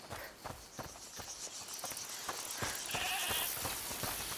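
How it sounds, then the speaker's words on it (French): A goat bleats in the video game A Plague Tale Requiem, with a few short calls over a run of footstep-like clops and steady ambient noise. "Écoutez, c'est la chèvre du monsieur."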